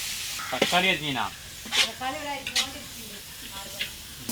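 Onions sizzle in a hot cooking pot while biryani is made, a soft continuous hiss running beneath a voice that talks over most of it.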